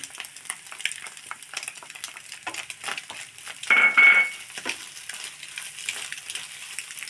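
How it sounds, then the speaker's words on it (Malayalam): Okra stir-fry with chilli flakes and turmeric is mixed in a pan, with a soft crackle and scraping stirring strokes, briefly louder in the middle, beside a short electronic beep. "ഇതിലേക്ക് വേണ്ട ഉപ്പിടാം നന്നായി മിക്സാക്കി കൊടുക്കാം"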